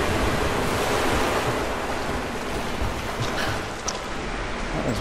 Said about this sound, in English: Why is water coming out there?